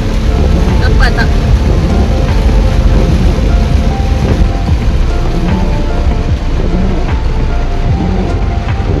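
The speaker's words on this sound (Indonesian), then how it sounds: "Sekarang ni tengah hujan, hujan lebat." Heavy tropical rain on Langkawi pounds loudly and continuously, likely heard from inside a moving car, with a low rumbling drone underneath and no clear speech.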